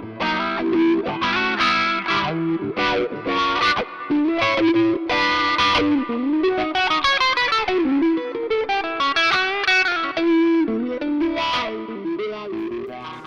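Electric guitar riffs run through wah and distortion effects in AmpliTube 2.5 on an iOS device, sweeping, gritty lead notes played continuously and loud, with no voices.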